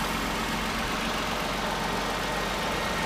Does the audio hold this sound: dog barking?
no